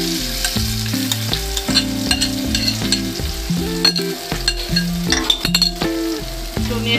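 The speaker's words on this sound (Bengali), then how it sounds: "তেল গরম হয়ে গেছে, এখন আমার সেই তৈরি করা মশলাটা আমি এখন তেলে ঢেলে দেব।" A prepared spice masala hitting hot oil sizzles loudly and steadily, with stirring and clinking in the pan under background music.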